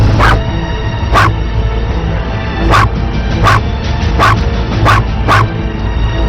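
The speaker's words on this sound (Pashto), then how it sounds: "دا سپی ولې غاپي" A dog barks in sharp, repeated bursts, roughly one every second, loud and fairly close over a steady, noisy outdoor background in a Pashto drama scene.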